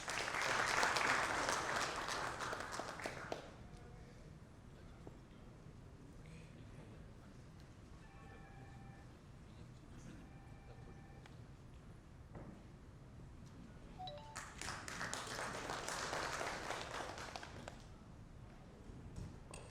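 A conference audience at a cyber security congress inauguration in Kolkata gives two bursts of applause, dense clapping that fades into a quiet hall with faint tones, then swells again near the end.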